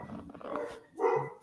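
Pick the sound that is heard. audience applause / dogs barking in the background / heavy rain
dogs barking in the background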